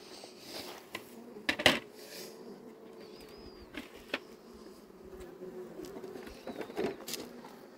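Apis honeybees buzzing around a hive feeder, a continuous close hum with a few sharp clinks and knocks from handling the feeder.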